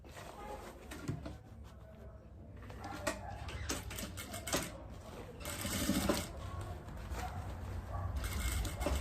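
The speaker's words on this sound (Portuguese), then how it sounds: "E aí, agora, a gente passa a costura." A home sewing machine stitches a fabric diaper holder in quick rattling bursts separated by short pauses, close and fairly quiet.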